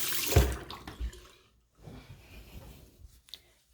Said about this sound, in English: And you can rinse it off.